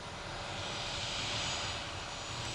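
F-15 fighter jet engine, a continuous loud roaring whoosh with a broad hiss, steady throughout.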